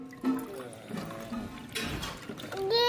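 Drinking water poured out at home, a steady splashing, trickling stream running for a few seconds with a faint voice briefly in the background.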